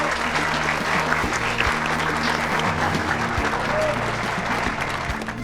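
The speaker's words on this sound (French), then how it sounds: "je demande un tonnerre d'applaudissements pour notre médaillé" A crowd at a community celebration gives a thunderous round of applause for a medal winner: loud, dense, continuous clapping over a low steady hum, holding strong throughout.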